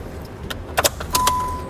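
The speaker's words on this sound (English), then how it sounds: "We then turn the key into the on position" Car key turned in the ignition of a 2016 Jeep Wrangler: a few short metallic clicks and key jangles, then a sustained electronic chime or tone as the ignition reaches the on position, close and fairly quiet.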